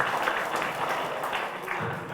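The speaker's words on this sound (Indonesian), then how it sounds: "Tepuk tangan untuk kita semuanya." Audience at an Islamic religious lecture gathering breaks into applause, a continuous dense patter of many hands at moderate level that lasts the full couple of seconds without voices.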